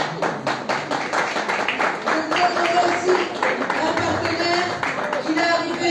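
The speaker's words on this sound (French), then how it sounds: "on acclame très fort" A church congregation at a Sunday service applauds loudly, with steady, close clapping throughout and voices speaking and calling out over it.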